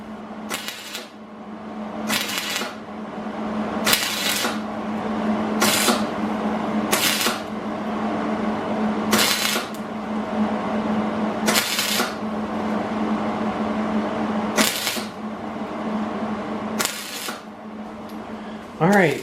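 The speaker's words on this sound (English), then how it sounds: "So let's get the welding." Welding repair on the bent front end of a homemade go-kart, short crackling bursts of the welder repeating every second or two in a workshop, each burst loud and close over a steady low hum.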